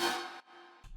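Short bright synth hits, one sustained tone cut off then a quieter one, with a low thump at the end; brief and isolated.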